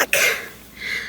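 A single cough from a woman recovering after a planned caesarean section, with a sharp onset near the start of the clip followed by a breathy tail, close to the microphone.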